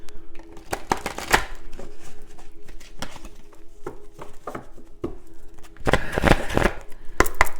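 Tarot cards being shuffled by hand, a series of quick riffling and tapping bursts with short gaps, close and moderately loud, with a louder flurry near the end.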